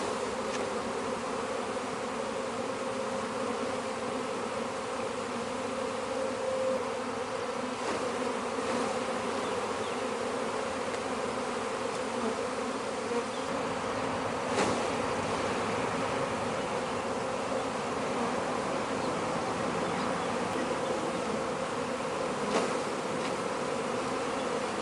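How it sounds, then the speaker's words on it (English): Honeybees shaken frame after frame onto a ramp during a Taranov split make a steady, dense buzzing swarm drone that hangs close and loud throughout, with a few soft knocks from the frames. "So I'm going to be shaking all these bees onto this ramp right here."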